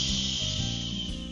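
A voice imitates a cat's hiss with a long, steady 'ch' sound, close and fairly loud, over a low background hum.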